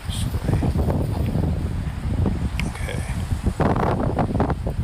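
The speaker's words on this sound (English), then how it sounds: "It's really windy here" Strong wind buffets outdoors with continuous rumbling gusts and rustle, loud and close throughout.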